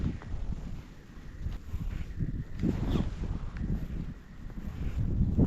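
Wind gusting outdoors on a pike-fishing trip from a boat, a low rumbling buffet against the microphone that rises and falls in uneven surges, with faint rustling and small knocks mixed in.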